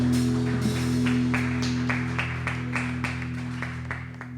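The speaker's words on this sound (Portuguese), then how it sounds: "Aplauda, Senhor" Congregation clapping during a church service, a sustained spread of hand claps over a steady droning organ or keyboard tone, fairly quiet and tapering slightly toward the end.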